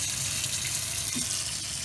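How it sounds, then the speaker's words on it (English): Water drains steadily from an RV's fresh water tanks, a close, continuous gushing splash with a constant low rumble underneath and no talk. "I filled the fresh water tanks all the way up, and now I'm draining them down."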